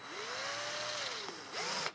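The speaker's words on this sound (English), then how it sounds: "cinch it tight, and then you can drill a hole anywhere you like in here" A drill driver with a headless nail chucked in it bores a hole through wood, its whine rising and holding steady, then dipping and rising again near the end, close and alone.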